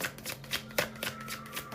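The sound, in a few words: shuffling tarot cards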